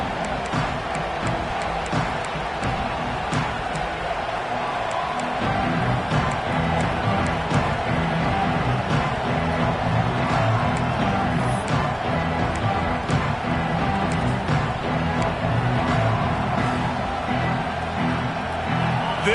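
A dense stadium crowd roar from the video game College Football 25 fills the background and swells slightly partway through, with a play-by-play commentator talking over it.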